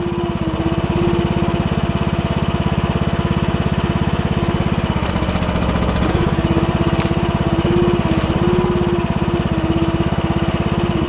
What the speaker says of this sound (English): This is the first time I've ever dug a stump out with the excavator